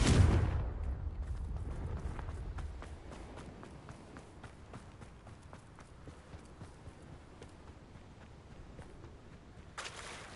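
A Confringo fire spell explodes in Hogwarts Legacy, a heavy close blast at the very start that fades into a low rumble, followed by faint scattered crackles and game noise.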